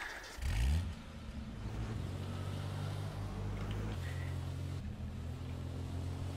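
A police car engine in the game H1Z1 starts and revs, then settles into a steady, close drone that shifts pitch a couple of times, with no talk.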